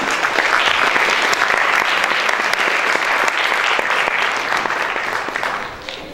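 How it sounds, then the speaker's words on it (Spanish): Audience applause at a university architecture conference at UNAM, a dense steady crowd of clapping hands sustained throughout, with no talk over it, thinning slightly at the very end. "Pues demos un aplauso a nuestro Olivos."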